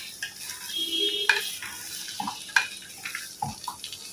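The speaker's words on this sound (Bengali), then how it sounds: "পেঁয়াজ কাঁচামরিচ একটা তেজপাতা দিয়ে না ফোড়ন দিলাম আর পেঁপে আর আলুটা ভাজি করে ফেলবো এখানে" Onion, green chili and a bay leaf tempering with papaya and potato being stirred in a pan, with scraping spoon strokes, soft sizzling and a few clinks, no talking.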